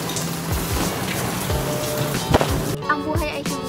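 Steady rain falls outdoors, pattering on surfaces as dense hiss with scattered heavier drops and splashes, loud and close, with faint voices in the background.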